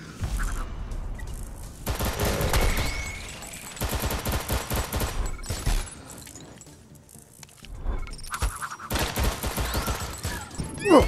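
Loud shotgun blasts in a VR shooter game played with a haptic vest, coming as dense bursts of gunfire in several clusters across the clip with no talk.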